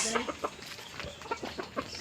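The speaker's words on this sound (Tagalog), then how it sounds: "Ayan may nakakalat-kalat pang mga manok nila dito guys" Chickens loose in a small backyard give soft, scattered clucks in short repeated bursts, faint and close against quiet surroundings.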